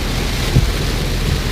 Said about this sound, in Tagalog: Mukhang may bagyo ata oh